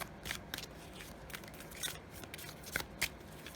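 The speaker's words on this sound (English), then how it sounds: "I'm just giving them one last quick shuffle" Tarot cards being shuffled in quick, uneven riffling bursts, crisp and close, with no talking.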